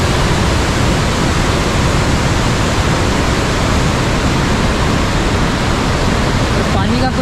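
Water rushing and churning loudly at the Bhimkund pool, a dense, continuous roar filling the scene close by, with a voice briefly audible near the end.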